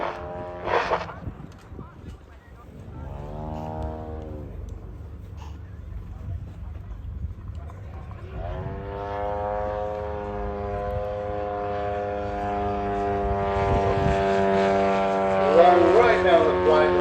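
A Skip Model Designs 52% Ultimates model aircraft flies at a Much Marcle model flying event, its engine droning with rising and falling pitch as it passes, growing louder toward the end, while a commentator talks over it.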